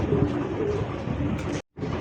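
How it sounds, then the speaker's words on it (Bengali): A pair of Deshi Golla pigeons coo at close range, giving low, throaty, repeated calls with steady noise behind them. The sound cuts out briefly near the end. "একজোড়া দেশি গোল্লা কবুতর"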